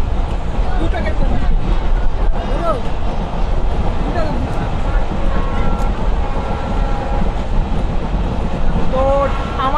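A local train in Bangladesh, heading to Mongla and near Chulkati station, rumbles loudly and steadily with rattling carriages and faint wheel squeals, while passengers' voices murmur underneath.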